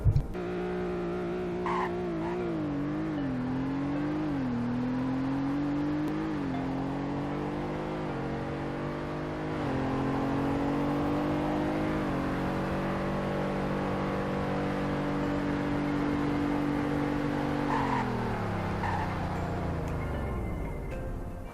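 A car in the Roblox game Greenville runs a 0 to 100 and braking test: a loud, continuous engine drone climbs in pitch through several gear shifts, then winds down with tire squeal as it brakes, with no talking.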